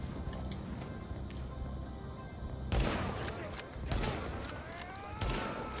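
Gunfire in The Division video game during a firefight at distance: a faint ambient bed, then several sharp separate shots and short bursts, moderately loud, with no talk over them.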